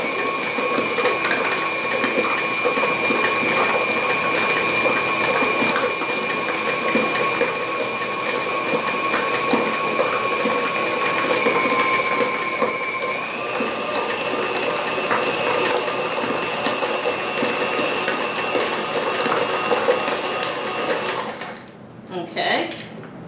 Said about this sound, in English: And we're creaming our cream cheese right now.